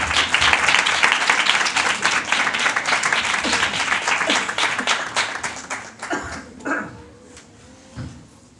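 A church congregation at a Friday meeting applauds for the pastor, dense clapping that fades out after several seconds, while a dog barks and whimpers nearby.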